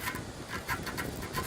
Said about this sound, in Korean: 끊임없는 사포질